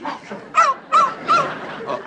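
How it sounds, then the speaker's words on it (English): A small dog gives three or four quick, excited yips and barks in close succession, loud and near. "Small dog."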